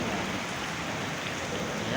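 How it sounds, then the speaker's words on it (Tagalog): Rain falls steadily beside a small stream where people are fishing, a soft, constant hiss that fills the whole clip at low to moderate loudness. "Naulan."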